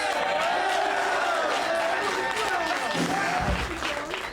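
Studio crowd at a 1986 WWF Tuesday Night Titans taping cheering and applauding, a dense steady roar of voices and clapping that fades slightly at the end.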